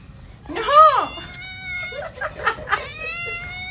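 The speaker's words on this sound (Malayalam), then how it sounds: "പൂച്ച നോക്ക്." A cat meows loudly up close with a rising and falling cry, then gives several shorter, softer meows, while a person talks quietly nearby.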